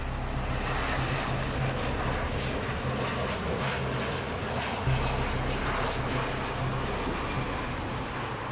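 Ryanair airliners at a busy airport base, heard as a steady, continuous engine roar with a broad rumbling drone that persists throughout, moderately loud and without talk.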